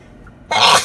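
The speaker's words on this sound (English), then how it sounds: "I gotta sneeze one more time, I think" A single sharp, explosive sneeze bursts out after a quiet moment, loud and close, then trails off briefly.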